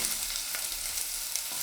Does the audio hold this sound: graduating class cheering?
no